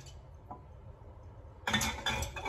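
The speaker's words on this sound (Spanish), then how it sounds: "los vamos a poner aquí adentro en la olla de presión" Bones being dropped into a metal pressure cooker pot, a quiet pause followed by a cluster of clattering knocks and scrapes near at hand.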